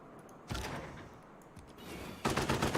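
Rocket artillery in Civilization 6 lets loose two bursts of rapid cracking launches, one at half a second and a louder one near the end, separated by a quieter rumbling stretch.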